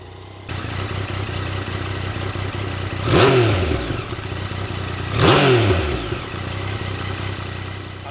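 A Yamaha MT-09 motorcycle idles with a steady, rumbling engine note and is revved twice in short bursts that rise and fall, close and fairly loud, with no talk.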